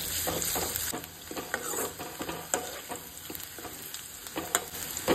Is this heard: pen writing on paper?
no